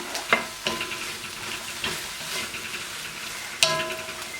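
Cabbage and eggplant stir-fried in a pan: a constant sizzle with a few sharp scrapes and clatters of the utensil against the pan, heard close with no voices.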